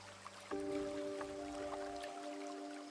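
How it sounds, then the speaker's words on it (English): Water drips and trickles steadily indoors behind a sustained tonal hum, soft and continuous with a few faint splashes. "What's the water sound?"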